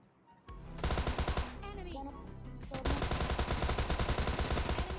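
Gunfire in the mobile battle royale game PUBG Mobile Lite, loud rapid automatic bursts firing in dense repeated volleys, with a short break in the middle and a steady stream of shots after it, all over game background sound.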